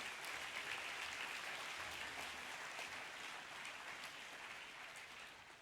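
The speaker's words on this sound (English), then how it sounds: "if we can give the band another round of applause" Boys' college assembly applauding the band, a sustained round of many hands clapping in a large hall, fairly faint and slowly tapering off.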